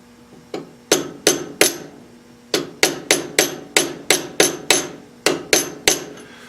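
A regular chisel repeatedly taps a metal part of a Mini Hog machine, sharp ringing metallic strikes in irregular bursts of two to four, close and loud, with brief pauses between groups and no talking.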